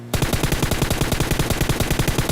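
Loud, close automatic gunfire from the BGMI battle royale game, a continuous rapid stream of shots near an apartment building, with no pauses and no talk.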